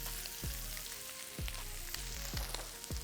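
Salmon bites frying in a pan, a soft continuous sizzle with a few light crackles, near and fairly quiet, with no talking.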